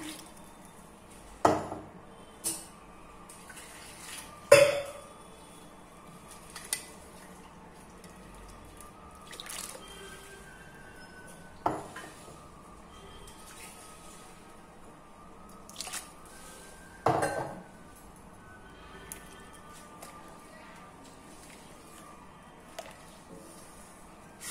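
Water added to salna cooking in a pan: scattered wet splashes and drips, a few sharper knocks of vessel against pan, spaced irregularly over a quiet kitchen background.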